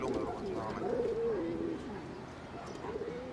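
A pigeon coos close by in a low, rolling, wavering call that lasts over a second and then softens, with faint outdoor background noise in a Havana street setting.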